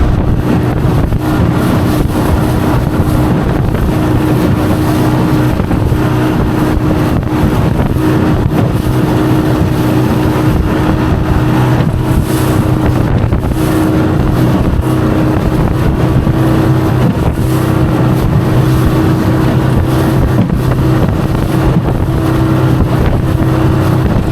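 A jon boat's outboard motor drones steadily at about 30% throttle through rough water, with a loud, constant hum blended with wind buffeting the microphone and no talking.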